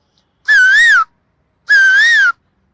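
A man who mimics animal and actor voices imitates a koel's call, giving two separate clear whistled notes that rise and fall. Each lasts about half a second, loud and close, with silence around them.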